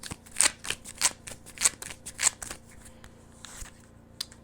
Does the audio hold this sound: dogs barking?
no